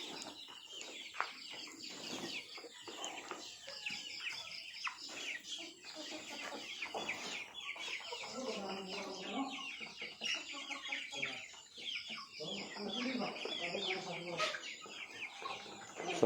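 Chickens cluck and chatter continuously at close range, a busy flock with overlapping calls and occasional louder squawks.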